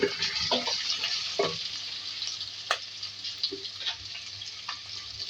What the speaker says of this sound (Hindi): टिंडे 300 ग्राम तो बीच में मैंने कट कर लिया था, तो फ्राई करेंगे